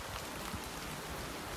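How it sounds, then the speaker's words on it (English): Rain falls steadily on a beach, a dense, even hiss of drops hitting the surface, continuous and fairly faint with no voices. "quite a little rainstorm"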